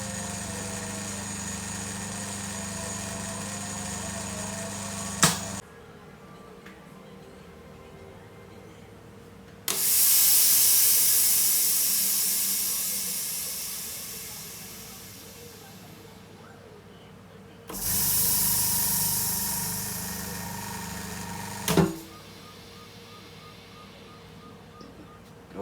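A vacuum laminating and debubbling machine working on an iPhone XR touchscreen repair: a steady motor hum interrupted by sharp clicks, with two loud hissing bursts of air pressure that swell and slowly fade, then settle back to a lower drone.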